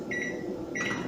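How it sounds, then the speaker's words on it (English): A microwave oven runs for about 30 seconds melting chocolate, giving a steady close hum with a brief clunk or door-like sound near the end, with no talking. "I put it in the microwave for about 30 seconds"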